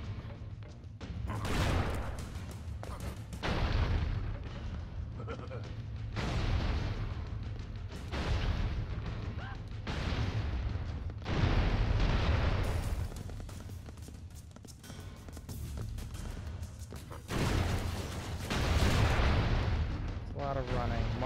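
Bombs dropped in the Broforce video game explode in repeated heavy booming bursts spaced a few seconds apart, loud and close, with someone talking between and over the blasts.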